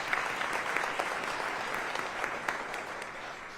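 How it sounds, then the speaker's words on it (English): Sustained applause from an audience at a university state-of-the-university address, steady dense clapping throughout with no speech over it. "Give them a round of applause."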